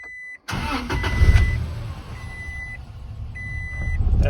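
A Toyota Tacoma engine cranks and catches after a brief silence, then settles into a steady idle, with faint electronic beeps sounding over it.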